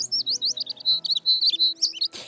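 A cartoon baby bird chirps in a quick run of high, bright tweets and warbles, loud and close, with soft background tones beneath and no voices.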